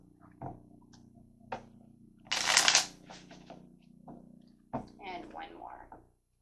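Tarot cards being shuffled by hand, a dense riffling burst in the middle between softer card handling sounds, with faint speech-like noise around it.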